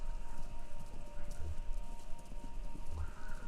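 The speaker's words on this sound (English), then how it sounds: "Sounds like horses?" Horses run in a race broadcast over a radio station in Kentucky Route Zero, with quick rhythmic clip-clop hoofbeats at moderate volume, a brief whinny and a faint steady hum beneath.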